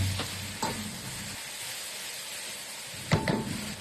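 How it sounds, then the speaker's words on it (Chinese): Quiet sizzling of beef stir-fried in a wok with hang peppers, bird's eye chili and celery, punctuated by a few scraping strokes of the spatula between stretches of low hiss. "接着倒入切好的杭椒、小米辣和芹菜，炒出香味，炒至断生。"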